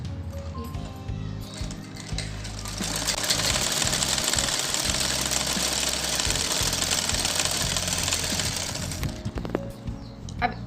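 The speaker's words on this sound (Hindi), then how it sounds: "हम इस पे एक और सिलाई लगाएंगे।" Electric sewing machine stitching a seam on a kurti, quiet whirring at first, then a loud, continuous run for about seven seconds before slowing and stopping.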